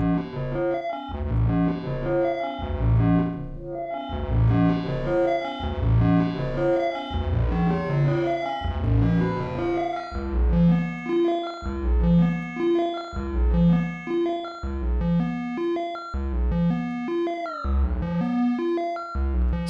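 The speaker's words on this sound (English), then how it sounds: "Can kind of have a reverb-y sound." A synth sequence built in VCV Rack plays a repeating pattern of pitched plucked notes, each trailing into a reverb-like delay wash, looping steadily and loudly for the whole stretch.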